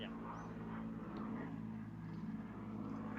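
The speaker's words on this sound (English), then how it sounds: "we have helicopter going by" A camera helicopter flies over a cricket ground during a T20 match, a faint steady droning rotor hum in the distance amid quiet outdoor ambience.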